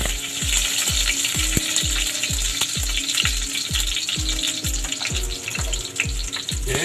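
Sliced garlic frying in about two tablespoons of hot oil in a pan, a steady close sizzle and crackle with a regular run of sharp, repeating clicks throughout.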